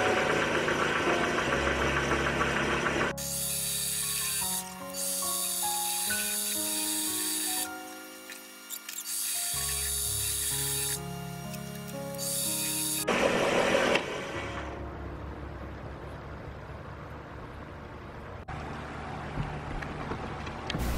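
A lathe machines a small plastic part from an oscillating fan, its motor humming steadily with a scraping cutting tone that changes in pitch as the cut varies, running continuously and fairly loud with no talking.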